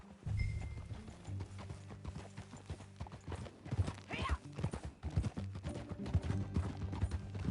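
Horse hooves clip-clop steadily on a trail in the Western open-world video game Red Dead Redemption 2, close and fairly quiet, with a brief neigh and faint background music.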